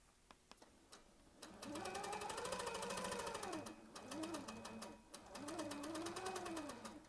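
A Handi Quilter Avante longarm quilting machine stitching fabric, a rapid mechanical needle chatter with a whirring motor tone that rises and falls in pitch across three running bursts, close, preceded by a few soft clicks.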